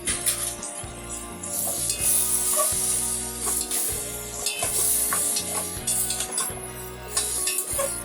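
Vegetables, including drumstick, carrot, potato and brinjal, sizzle steadily in hot oil while a utensil scrapes and stirs the pan in repeated rhythmic strokes for sambar rice, close and clear.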